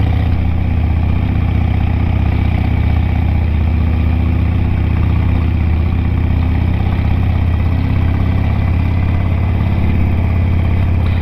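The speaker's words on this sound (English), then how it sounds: "I'm sure they love bikes like this, you know, with their noisy exhaust riding through here" A Harley-Davidson Sportster 883 idles with a loud, steady, low exhaust rumble that stays close and constant throughout, with no voices.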